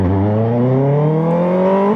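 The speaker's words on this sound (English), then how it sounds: "Give me a little free rev" A motorcycle engine, left in what the rider calls false neutral, free-revs loudly and close by, its pitch climbing steadily through a single smooth two-second rise with no voices over it.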